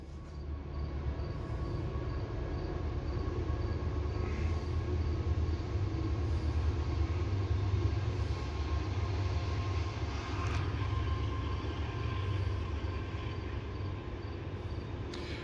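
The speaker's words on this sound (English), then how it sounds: "Train!" A train rolls past a workshop under construction, a steady, loud rumble of rail cars and wheels on track filling the whole stretch, with faint squeals now and then.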